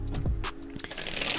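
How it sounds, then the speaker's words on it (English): Tarot cards being shuffled by hand, soft papery riffles and taps in a few short bursts, close and moderately quiet with no talking. "so I've been shuffling the cards"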